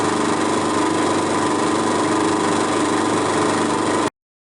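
A drill runs continuously while boring 3.5 mm holes in a motor speed controller enclosure, making a loud, steady whine and motor drone that cuts off abruptly near the end.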